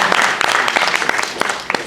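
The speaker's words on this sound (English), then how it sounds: "Give him a round of applause." An audience at a community alliance meeting claps for a fire chief, a short dense burst of applause throughout.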